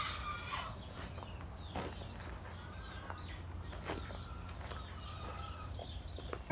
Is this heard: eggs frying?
no